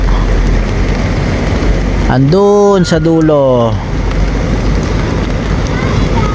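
Rain falls outdoors beside the Santa Cruz river in Angat, Bulacan, where an unfinished bridge is being built, making a steady hiss throughout while someone speaks briefly in the middle.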